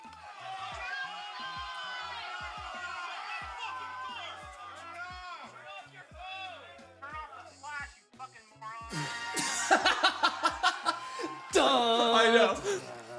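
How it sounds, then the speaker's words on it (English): A movie theater audience erupts in cheering, whoops and excited voices at a screening of The Force Awakens, building into loud bursts of crowd noise and laughter near the end. "So everybody's cheering in the theater"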